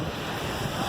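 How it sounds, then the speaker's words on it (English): Strong wind buffets a microphone outdoors on a beach, a steady roaring rush with surf-like noise and gusting texture throughout, loud and continuous with no voices. "it's windy as hell out here"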